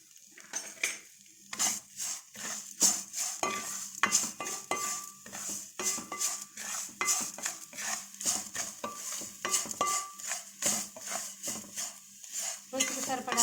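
Ingredients for kandi podi, with salt and curry leaves, are roasted in a pan over a low flame, and a spoon stirs and scrapes against the metal in a quick, irregular run of clinks and scratches.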